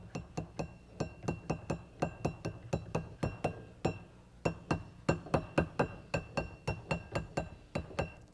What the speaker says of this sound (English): So we take our soft hammer.